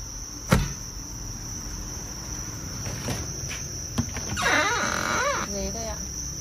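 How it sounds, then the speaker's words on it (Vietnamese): Farmed crickets trill continuously at close range while scattered knocks, a sharp tap and a person's voice briefly rise over the steady chirping. "Đây dế đây ạ."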